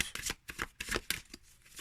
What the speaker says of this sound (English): I can riffle shuffle a little bit better when it's face out rather than the back out.